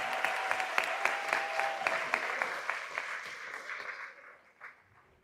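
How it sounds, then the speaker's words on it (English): Applause for the graduating class of 2025 at a senior graduation ceremony, a dense crowd clapping steadily in a large hall, then thinning out and fading away over a few seconds. "Give them a round of applause."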